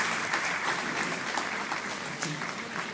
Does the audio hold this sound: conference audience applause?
yes